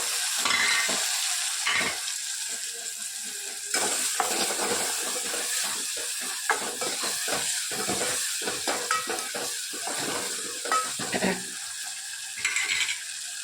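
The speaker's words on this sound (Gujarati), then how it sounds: "સરસ બધું સોતે કરી લઈએ. ટામેટા નાખી દઈએ." Tomatoes sautéing in a hot pan for sev usal, a steady crackling sizzle broken by frequent scraping and stirring clicks of a spoon against the pan, close and moderately loud, with no voices.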